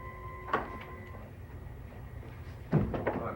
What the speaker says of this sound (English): When I open this door, will I be able to enter?